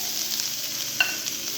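Kebab mixture frying in a pan, a short steady sizzle with a single sharp scrape of a utensil midway.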